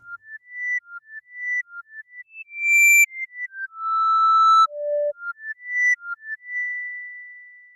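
A synthesized flute-like melody plays a series of short and held notes with a slightly gritty, overdriven edge, clear and alone.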